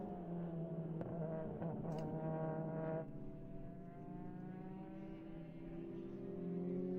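Distant 2-litre Renault D2 Formula race car engines at Grobnik circuit, faint and steady, with rising and falling pitch as cars accelerate and pass.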